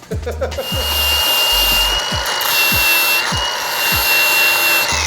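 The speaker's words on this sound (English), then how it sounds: "Now, we gotta clean up the metal around the welds to give us the best chance of penetration." A power tool grinds and scrubs bare metal around welds on a scratch-built go-kart frame, a loud continuous abrasive whine with a steady high tone, broken by repeated short sweeping scrapes.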